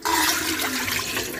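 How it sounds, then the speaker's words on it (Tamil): Three cups of water pour into a cooking pot on a stove while sago appalam batter is being made, a steady loud rushing splash running alone for the whole moment. "3 கப் வந்து தண்ணி சேர்த்துக்கலாங்க."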